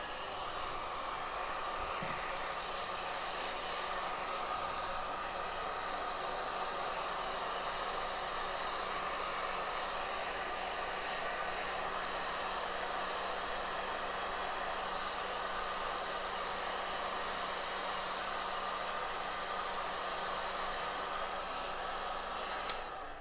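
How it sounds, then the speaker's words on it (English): A heat gun blows hot air with a steady, even whoosh and faint hum that runs unbroken and close throughout. "I have a heat gun"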